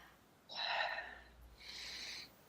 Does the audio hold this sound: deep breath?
yes